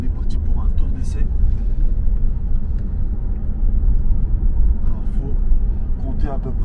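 A nearly 2018 BMW 330d M Sport, not xDrive, on a test drive gives off a steady low engine and road rumble from inside the cabin, continuous throughout, under a voice.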